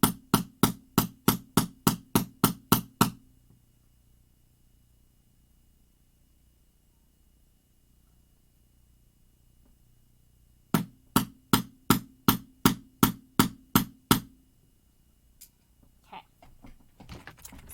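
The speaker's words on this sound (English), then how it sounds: "Let me do a quick hammer." Sharp, evenly spaced hammer strikes setting fabric grommets ring out in a quick burst of about eight, then silence, then another run of eight blows, with faint handling noises after.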